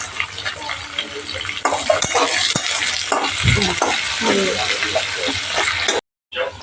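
Onions frying and being stirred in a pan for a chicken curry, a steady close sizzle under scraping and clinking of the spoon against the pan, with a brief break near the end.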